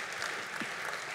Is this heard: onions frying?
no